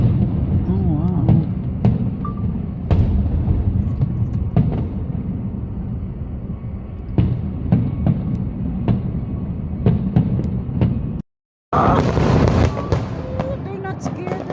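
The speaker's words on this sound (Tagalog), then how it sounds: "Wow, ayan, fireworks in Makati." New Year fireworks bursting over Makati, a dense run of booms and crackles heard from a distance under continuous voices, with a brief cut in the middle.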